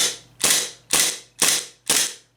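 A WE F226 airsoft pistol with an empty magazine cycles five times, each sharp, loud mechanical clack of the slide kicking back followed by a short decaying rattle, evenly spaced about half a second apart, close and with no talk.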